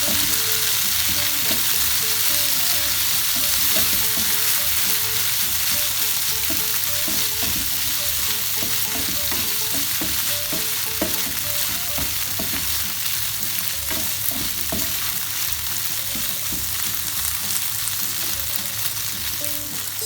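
Gnocchi fry in a pan with browned onions and garlic, a loud, constant sizzle with scattered spoon scrapes and clinks as they are stirred around, no voices over it.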